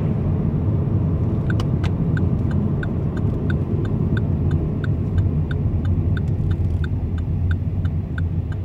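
Marshrutka minibus arriving in Vsevolozhsk, a steady low engine rumble close by with a regular ticking, like an indicator, clicking throughout.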